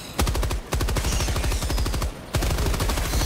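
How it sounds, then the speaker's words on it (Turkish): Rapid automatic gunfire from the co-op shooter Helldivers 2, loud and close, in two sustained bursts with a brief gap between them and no talk over it. "Vuruyorum."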